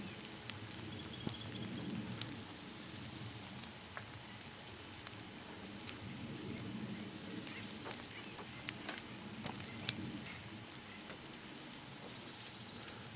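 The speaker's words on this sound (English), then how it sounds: "It's raining." Steady, soft patter of light rain falling outdoors at a campground, a continuous hiss with occasional louder drops landing nearby; no voices.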